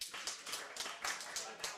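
An audience at a professional pool match in the finals of the Don Weir Memorial Invitational claps in a soft, quick run of hand claps, faint and distant, with a commentator talking over it.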